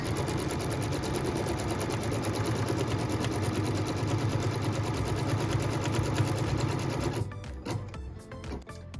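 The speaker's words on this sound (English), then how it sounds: "What we're stitching now is both a tack down line and a cut line so we can put piece number 8 into our block." A sewing machine runs steadily, stitching a combined tack-down and cut line on a pieced maple leaf quilt block, its fast even whir continuing for several seconds before stopping, followed by a few soft handling clicks.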